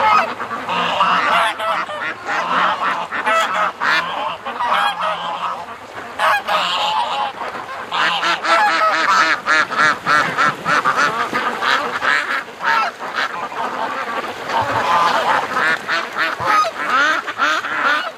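Ducks and geese on a pond near bulrushes, honking and quacking in a loud, dense, overlapping chorus of repeated calls that continues throughout.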